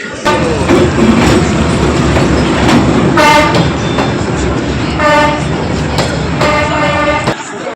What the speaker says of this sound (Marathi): त्याच्या अगदी मधोमधून ट्रेन जाते